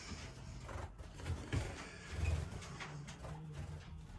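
Pigeons or doves coo softly in a bird room prepared for breeding season, with low repeated coos rising and falling over faint background hum and no one speaking.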